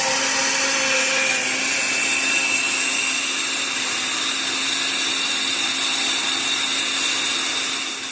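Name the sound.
blender blending sauce of vegetables, mushrooms and onions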